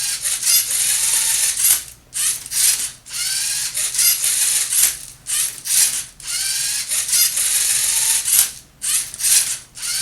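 A Lego robot arm turning a Rubik's Cube gives off continuous clicking, ratcheting gear noise, whirring in bursts that break off into short pauses, close and fairly loud, with no talking.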